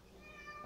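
A cat meowing indoors, a single faint drawn-out meow, quiet and somewhat distant, with no talk over it.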